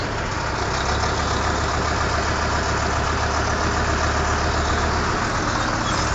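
A farm tractor engine fitted with new injectors idles with a steady, even diesel rumble, loud and close. The sound holds constant throughout, with no speech over it.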